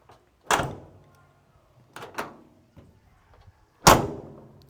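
Door of a 1968 Chevy C-10 pickup truck being closed: a loud metal slam and latch near the start, two quieter clunks mid-way, then a final heavy, solid slam, all close with no talk.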